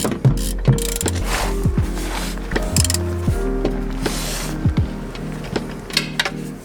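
Ratchet clicking steadily as it snugs down the oil drain plug on a BMW E46 M3 during an oil change, a close, repeated mechanical ratcheting with a few sharper clanks, no talking.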